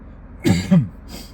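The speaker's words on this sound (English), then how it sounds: "Excuse me, I'm about to cough." A couple of short, throaty coughs close to the mic, followed by a faint breath, in an otherwise quiet room.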